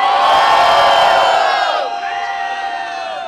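Crowd at a Brazilian rap battle semifinal cheers and shouts loudly, a thick wall of whoops and yells that dips partway through and carries on a little softer.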